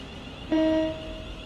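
A short two-tone electronic train alarm tone from Train Sim World 3, on a Class 700 train on the Brighton Main Line, sounds for under half a second over a steady low hum.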